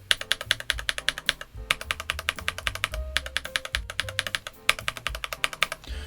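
A NuPhy Halo96 mechanical keyboard with shine-through double-shot keycaps is typed on in quick bursts of close, crisp clacks with short pauses between runs.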